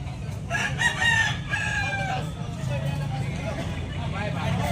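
A White Hackle gamecock stag crows loudly and clucks close by, with a steady hum of passing vehicles in the background.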